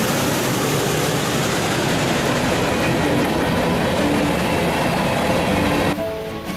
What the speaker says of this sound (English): This train drags worse than the oil tankers, and these trains keep getting longer.